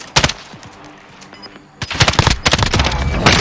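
Loud automatic gunfire in the Call of Duty: Modern Warfare Warzone video game: a few sharp bursts, a pause with faint background sounds, then heavy sustained rapid fire.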